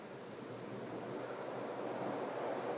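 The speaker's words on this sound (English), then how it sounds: "And it flies on high as usual. Very powerful fan." A Casablanca Four Seasons "Mushroom" ceiling fan from around 1982 runs on its highest setting, giving a steady, soft broadband whoosh of moving air with no other sounds.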